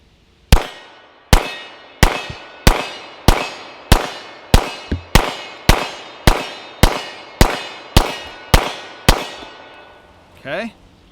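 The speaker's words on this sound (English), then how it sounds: "I'm going to fire the magazine out of the Hudson 9 here really quick" Hudson 9 pistol firing a magazine of 9mm rounds: about fourteen sharp, loud reports in a steady rhythm roughly every 0.6 seconds, each with a short ringing decay, then a brief faint rustle at the end.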